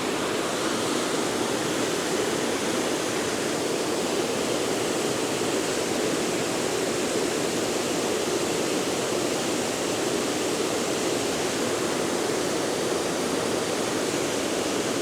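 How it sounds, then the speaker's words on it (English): The main waterfall at Enders Falls roars from a lower viewpoint as a constant, loud, broadband rush of falling water, unbroken and even for the whole stretch with no voices. "I'm at a lower viewpoint with the main waterfall is right up here."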